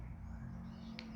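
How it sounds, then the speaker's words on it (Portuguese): A small pet bird indoors gives a brief high chirp near the end, fairly faint over a steady low electrical hum in a quiet room. "Eu peço perdão pelo passarinho que está piando, que eu tenho um passarinho aqui."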